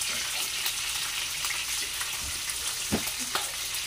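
Tilapia fries in hot oil in a pan, giving a steady, close, dense sizzle throughout with faint crackles and a few soft pops.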